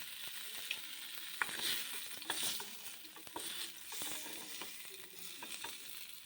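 Small chabila fish fry in hot oil with a quiet, steady sizzle, broken by scattered pops and the scrape of stirring.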